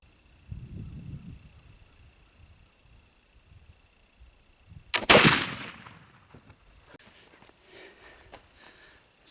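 A single loud black powder gun shot fired close by, a sharp blast with a long fading echo, preceded by quiet handling sounds and followed by faint rustling.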